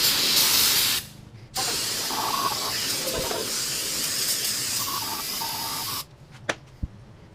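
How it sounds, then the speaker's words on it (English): A pressurized can of brake cleaner hisses in long continuous bursts, close by, spraying a small-block V8 cylinder head, with a short pause between them and a few small clicks at the end. "Now I'm going to spray off with some brake cleaner just to kind of dry off most of the stuff."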